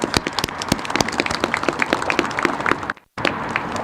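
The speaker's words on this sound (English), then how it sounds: "Please give them a round of applause." An outdoor audience at a Crosslake Connection service start announcement claps steadily, dense irregular hand claps close and loud, briefly cutting out before resuming.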